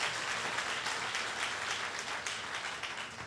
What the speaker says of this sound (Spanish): Si va a darle aplauso, déselo a mi Padre Celestial.